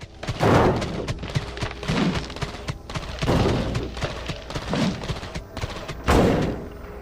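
Enemy shooting in the Lego Dimensions video game at Aperture Science: repeated heavy booming shots in irregular bursts, each with a rumbling thud, mixed with game effects and background music.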